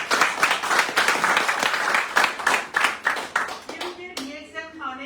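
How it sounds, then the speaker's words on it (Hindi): Audience clapping for themselves at a DXN products gathering, dense broadband applause for about four seconds that thins out as a voice starts speaking over the last second. "सही है, ताली बजाओ अपने लिए।"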